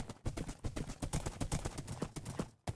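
A horse being ridden in the Minecraft video game clip-clops along, its hooves tapping in a quick, steady trotting rhythm that is loud and close throughout, with no voices over it.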